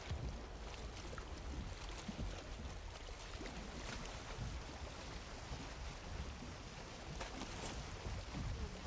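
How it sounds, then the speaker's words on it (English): A boat in Valheim sailing or rowing into a headwind, with steady, even rushing wind and water noise, faint and continuous throughout, no voices. "we are sailing or rowing into the wind that is blowing into our face"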